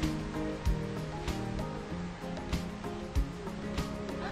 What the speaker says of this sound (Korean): 파도 소리 들리시나요?